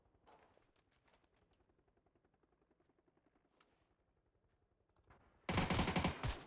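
Faint rhythmic footsteps and distant shooting in a competitive esports match, then a sudden loud burst of close gunfire in the final second.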